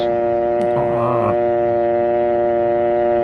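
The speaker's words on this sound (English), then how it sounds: "listen for the dial tone. It sounds like this." Steady continuous hum of a landline telephone dial tone, with a brief louder burst of another sound partway through.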